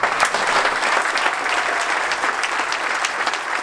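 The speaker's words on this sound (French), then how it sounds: "Un tonnerre d'applaudissements pour Gervais Martel" Audience applause fills the Salle Aragon at the opening of the Les Utopistes festival, a steady, dense roar of clapping hands that stays loud and continuous from start to finish.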